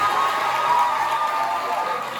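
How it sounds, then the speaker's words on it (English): A high school auditorium crowd at a stage hypnosis show claps and cheers in a continuous, fairly loud wash of applause with scattered shouts that runs throughout. "give them a big round of applause"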